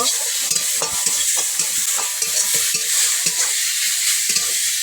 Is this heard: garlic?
yes